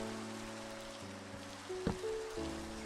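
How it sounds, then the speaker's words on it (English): Steady rain falls in the Minecraft video game, a soft, even hiss that runs throughout under sustained in-game background music. "And it's raining."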